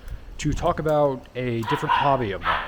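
Dogs bark somewhere in the background, partly buried under someone talking steadily in the foreground.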